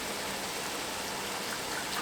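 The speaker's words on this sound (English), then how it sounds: "And I'll pour in the seafood stock." Seafood stock poured into a pot of fish head stew with sablefish and carrots, a steady soft liquid rush running evenly throughout at close range, with no talk.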